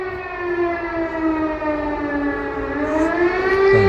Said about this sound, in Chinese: 每天都跟都是防空警报一直响啊